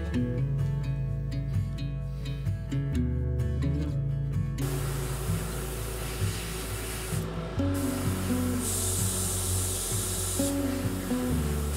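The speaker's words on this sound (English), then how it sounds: "using an airbrush is by far the best way to paint those kinds of things" An airbrush sprays paint in a garage spray booth, a steady hiss that starts midway and runs loud and continuous, with music playing underneath.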